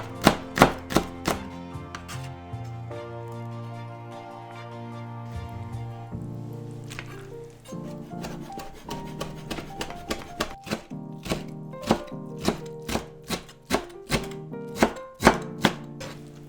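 Mild peppers are chopped with a knife on a board for a kimchi pancake, starting as rapid dense knocks, slowing to sparse cuts, then picking back up into a fast, steady, close rhythm of sharp thuds.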